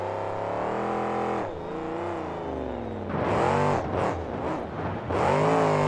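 Monster truck engine at a 2007 KORR Monsters show in Tacoma, Washington, sounding rough as it revs loudly and continuously, dipping briefly then surging in several harsh pulses, close and strong with no talk.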